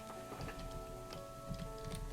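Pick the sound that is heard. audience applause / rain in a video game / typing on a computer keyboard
rain in a video game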